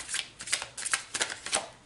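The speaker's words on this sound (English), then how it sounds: "And I'll do a few more shuffles like this." Large oracle cards are shuffled by hand in quick, crisp riffling bursts, a close series of papery flutters and slaps in an irregular rhythm, with no speech.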